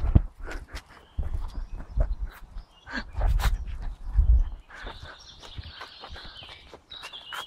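Miniature schnauzer out on a walk, with scattered light footsteps and paw scuffs, occasional thuds and rustles, and faint birdsong in the background.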